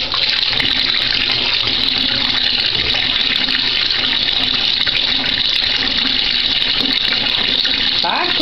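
Water gushes steadily from a tap while a pet named Paco is bathed, a loud continuous splashing stream throughout with bright hiss.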